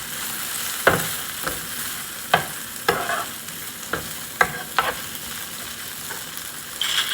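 Carrots and red bell pepper being stir-fried for Korean japchae, with a spatula scraping and tossing in bursts over a steady sizzle, several distinct stirring strokes spaced through the pan noise.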